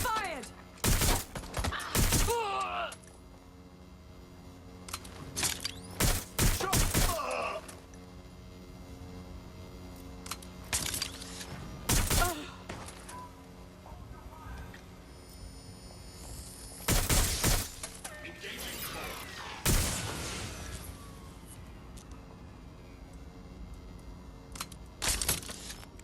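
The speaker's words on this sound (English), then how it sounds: "Shots fired!" Bursts of gunfire in the video game Watch Dogs Legion, with sharp volleys of shots and shattering impacts spaced across a steady background hum.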